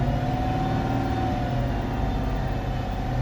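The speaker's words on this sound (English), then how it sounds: "We got some blips in the throttle" A 5.7 Hemi V8 with a stage 2 cam runs loud and close with a steady, rough lumpy drone under light throttle blips, no voices.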